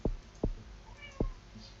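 A cat meows near a computer desk during a gaming session, one short, faint, high meow among a few sharp clicks close by.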